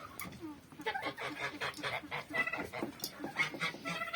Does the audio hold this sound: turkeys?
yes